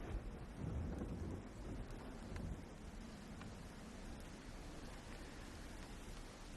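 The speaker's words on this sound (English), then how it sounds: "And there is a kind of a light rain that's going on here as you're all here." Light rain ambience for a Dungeons & Dragons tabletop session: a soft, steady hiss of rainfall with low rumbling swells like distant thunder and some wind, faint and continuous with no voices.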